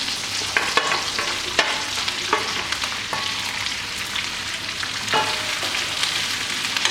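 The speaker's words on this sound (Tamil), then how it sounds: "கொஞ்ச நேரம் வதக்கி விடுங்க இதை ஒரு ரெண்டு நிமிஷம் வரைக்கும் வதக்கி விட்டுருங்க" Mushrooms and capsicum sautéing in a pan give a loud, continuous bright sizzle, with intermittent spatula scrapes and knocks stirring the vegetables, and no voices.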